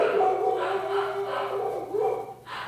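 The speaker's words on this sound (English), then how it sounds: "So that's the guard dogs" Guard dogs at a camp bark and whine in a steady, close chorus for a few seconds, with drawn-out tonal yelps running under the noise.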